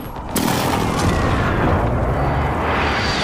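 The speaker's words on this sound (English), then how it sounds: "Be advised, friendly precision airstrike inbound." A precision airstrike in Call of Duty: Modern Warfare multiplayer detonates with a sudden loud boom, then a sustained roaring rumble of blasts and debris that rolls on for several seconds, close and heavy.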